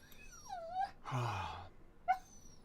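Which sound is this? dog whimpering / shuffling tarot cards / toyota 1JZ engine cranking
dog whimpering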